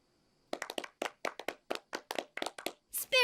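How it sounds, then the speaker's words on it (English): A small group in the animated series Sonic Boom gives sparse, half-hearted clapping after an inventor shows off his ultrasonic speed amplifier: about fifteen distinct, dry claps at an uneven pace, near and clear, ending in a brief voiced sound. "Spare me your half-hearted applause."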